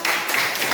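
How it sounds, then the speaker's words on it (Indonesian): Students in a classroom break into brief applause, a short dense patter of clapping hands under a teacher's closing words. "tepuk tangan"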